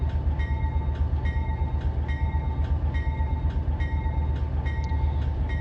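Steady low rumble of a freight train with distributed power units starting on a grade, with continuous heavy locomotive drone and faint regular clicking overhead, constant and close, no voices.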